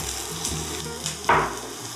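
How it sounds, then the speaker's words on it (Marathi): Hot oil sizzles steadily in a pan as finely chopped onion drops in, with a brief louder hiss partway through and no voices. "इथे चमचाभर तेल गरम केलेलं आहे तव्यामध्ये. यामध्ये घालूयात कांदा बारीक चिरलेला"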